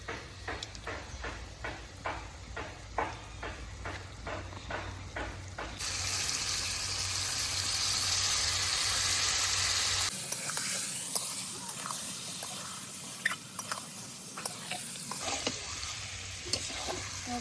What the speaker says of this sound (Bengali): ভালোভাবে নাড়াচাড়া করে মাংসের সঙ্গে মশলাটা ভালোভাবে মিশিয়ে নেব